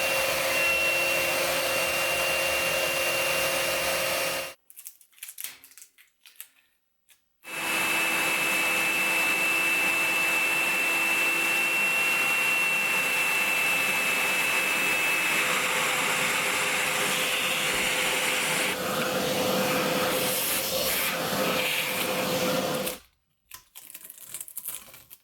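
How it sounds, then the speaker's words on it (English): A plunge router cuts a tremolo spring cavity into a guitar body following a template, giving a loud, steady high whine close by. It stops briefly partway through, starts again and then cuts out near the end. "getting some experience using the plunge router and the templates really pays off"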